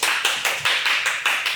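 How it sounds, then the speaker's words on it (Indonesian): Audience at a motorcycle builders' community gathering claps in unison, about seven sharp synchronized hand claps in a steady rhythm, close and moderately loud with no talking over them. "Tepuk tangan."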